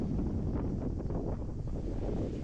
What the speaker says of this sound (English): oh, wow, it's really, really windy today.